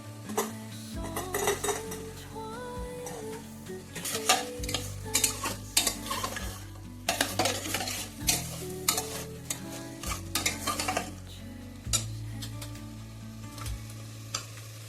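Potatoes and tomatoes are stirred and fried in a pan while a spoon repeatedly clinks and scrapes against the metal over a low sizzle. Background music plays steadily underneath.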